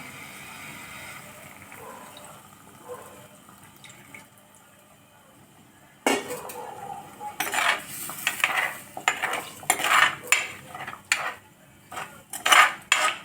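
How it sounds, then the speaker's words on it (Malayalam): Fish curry masala with tamarind water bubbles quietly in a pot, then a spoon stirs with repeated loud scrapes and clanks against the pot, irregular and close. "നമ്മുടെ മസാല നല്ലോണം തിളച്ച് വരുവാണ്"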